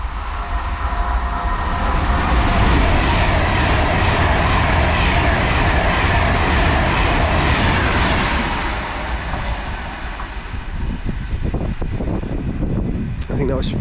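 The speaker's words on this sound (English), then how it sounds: "Right, we've got a Pendolino passing through now." A Pendolino train passing at speed through Goostrey station in Cheshire, bound for London Euston: a loud, sustained roar of rushing wheels and air that fades in the last few seconds.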